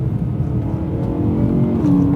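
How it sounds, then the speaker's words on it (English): BMW E9x M3 fitted with a Milltek V2 valved exhaust downshifts, a loud, close engine note that rumbles steadily and then rises into a brief rev blip near the end. "The downshift sounds so crisp."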